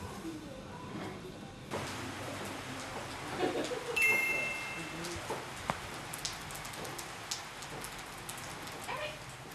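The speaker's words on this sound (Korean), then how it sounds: "족자카르타에 비가 내리던 날," Rain falls steadily on a day in Yogyakarta, Indonesia, a soft constant patter with scattered closer drips and occasional faint background sounds, heard with no talking.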